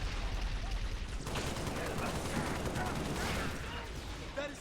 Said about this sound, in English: I'm getting shot from every direction.